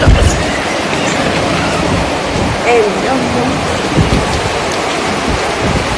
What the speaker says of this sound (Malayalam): മഴ വീണ്ടും കൂടി വരുന്നുണ്ട്